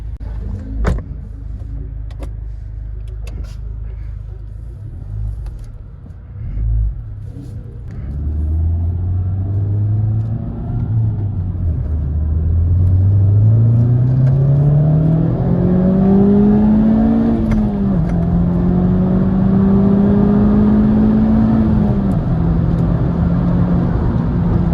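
A Honda Type R accelerates while driving on city streets in Accra, its engine rising through the gears in a steady, loud climbing drone after a few clicks and thumps.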